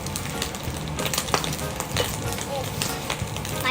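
Bacon frying in a pan at home, a dense crackling sizzle with sharp pops and spits scattered through, close and continuous, no talking.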